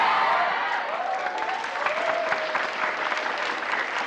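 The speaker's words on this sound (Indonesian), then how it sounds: "Ngapa tepuk tangan?" A studio audience claps in a steady, dense burst during a comedy sketch, with faint whistling or a voice tone drifting underneath the sustained applause.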